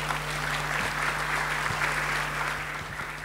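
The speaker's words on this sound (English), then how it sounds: "can I request you a round of applause for the panelists" Steady audience applause for a conference panel at a waqf fund forum, a dense even wash of many hands clapping that holds at full strength for the whole stretch, with a low steady hum underneath.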